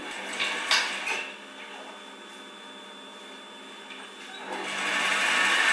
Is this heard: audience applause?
no